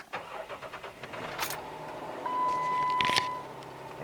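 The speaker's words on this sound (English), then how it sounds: "let's fire it up." A 270,000-mile Jeep Wrangler JKU cranks briefly and catches, settling into a steady, moderately loud idle after some faint clicks and rustles.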